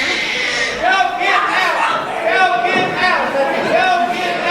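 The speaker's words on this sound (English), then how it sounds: "Crowd is on it." A wrestling crowd cheers and shouts in a loud, continuous roar with swelling waves of voices throughout.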